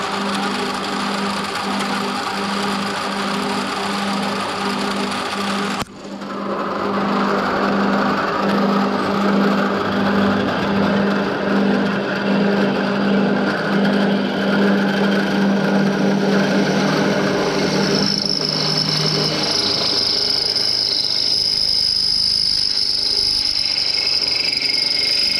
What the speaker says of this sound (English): drilling these holes